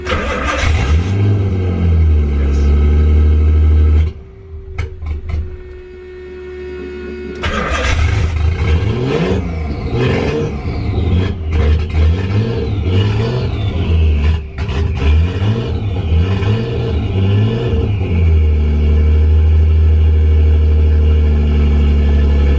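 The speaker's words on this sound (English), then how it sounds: "the car is running, but it's sounding like a tractor" A Nissan Cefiro A31 engine idles and revs loudly with no exhaust fitted, a rough, steady tractor-like chugging that drops out briefly, then restarts and keeps running with uneven revving.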